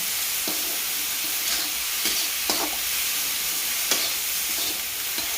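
Sprouted matki stirred into frying masala in a pan, a steady close sizzle with repeated scraping strokes of a spoon every second or so, no voices.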